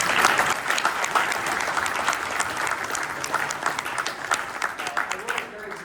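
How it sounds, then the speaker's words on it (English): Conference audience at a construction industry talk breaking into applause, a sustained wash of many hands clapping at moderate distance that holds steady for several seconds, then tapers off. "Let's give him a round of applause."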